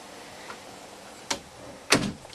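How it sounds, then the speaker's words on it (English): An interior door at Brougham Hall pushed shut, giving two sharp thuds about half a second apart, the second louder and heavier, in an otherwise quiet room. "I'm just going to shut the door."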